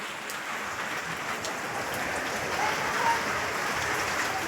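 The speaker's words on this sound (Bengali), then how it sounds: "কিরকম বৃষ্টি পড়ছে" Rain falls steadily at a wedding venue, a dense even patter on surfaces that fills the whole stretch, fairly loud and close with no voices over it.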